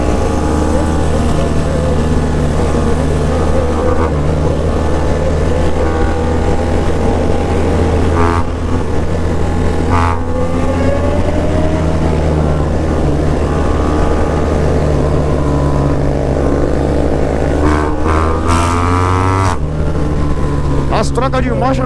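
A motorcycle engine drones steadily and loudly close by on a night ride, its pitch rising and then dropping several times as the rider shifts through the gears.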